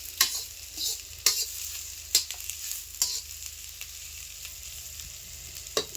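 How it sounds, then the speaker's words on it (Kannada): Onion frying in a pan: a soft steady sizzle underlies sharp, intermittent clinks and scrapes of a spoon stirring, spaced about a second apart, close and without talk. "ಈಗ ಉಳ್ಳಾಗಡ್ಡಿ ಚಂದ ಫ್ರೈ ಮಾಡ್ಕೋಬೇಕ್ರಿ"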